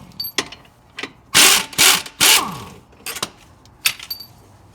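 Hand tools clatter and ratchet while two 15mm bolts come out of the lower shock mount on a 2014+ GM truck's MagnaRide front suspension, with several sharp metallic bursts and clicks, up close, no talking.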